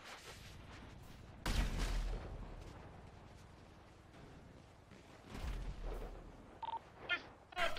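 Gunfire in the video game GTA, heard as loud, booming bursts of shots over a busy background of game noise, with a second burst a few seconds after the first.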